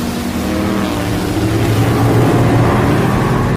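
Speedboat engine running at speed, a loud continuous motor drone with strong low harmonics that holds steady, then cuts off abruptly at the end.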